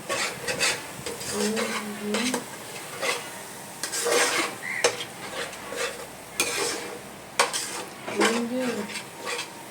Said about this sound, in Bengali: ধনের গুঁড়ো দেব, ভালো করে নাড়বো।